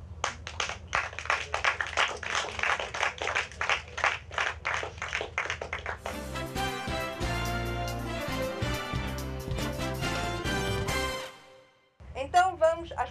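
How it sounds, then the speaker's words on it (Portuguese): Applause for quiz show contestants, a rapid run of rhythmic hand claps for several seconds, then music takes over before cutting out briefly. "Eu acho que todos eles merecem uma salva de palmas"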